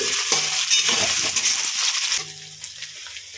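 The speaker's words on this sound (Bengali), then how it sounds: "কড়াইতে সাদা তেল গরম দিয়ে বড় সাইজের চারটে পেঁয়াজ কুচিয়ে নিয়ে প্রথমে ভালো করে একটু ভেজে নিচ্ছি" Chopped onions frying in hot white oil in a wok, a dense close sizzle that settles into a quieter crackle partway through, with a few light utensil clinks.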